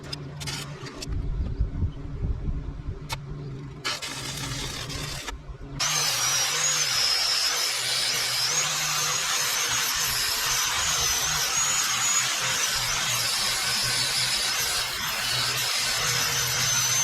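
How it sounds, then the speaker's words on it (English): A sway control bar is welded, with a steady loud buzzing hiss starting partway through after some clattering and tool whirring, continuing without pause to the end. "So I'm gonna sit this down and just do a couple welds"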